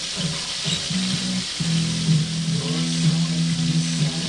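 Cutlets fry in a pan with a steady bright sizzle and crackle, plus intermittent stirring or scraping sounds on top, heard up close with no talking.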